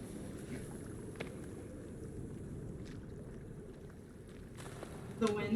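Steady low wind rushes through a forest in the survival horror game Sons of the Forest, a constant broadband drone that holds evenly throughout, with a brief brighter swell near the end.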